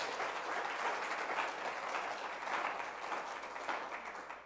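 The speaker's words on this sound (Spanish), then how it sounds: "Le damos una fuerte ofrenda de palmas a la presencia de Dios" A church congregation applauds in praise, a steady wash of many hands clapping at moderate distance, evenly sustained throughout with no voices standing out.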